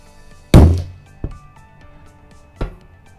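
An SA Sports Empire Terminator hybrid recurve crossbow fires 20-inch arrows with 125-grain field points: one sharp, loud thunk with a short ringing decay, followed by two softer knocks.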